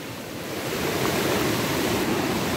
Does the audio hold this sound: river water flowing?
yes